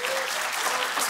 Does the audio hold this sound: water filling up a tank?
no